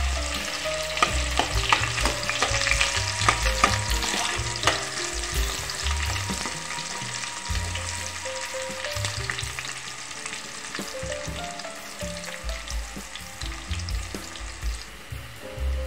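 A spoonful of cumin and a small chopped onion frying in hot oil in a kadhai, a steady close sizzle broken by frequent scraping stirs, with no talk over it.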